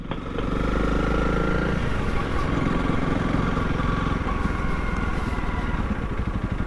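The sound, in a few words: motorcycle engine idling while coasting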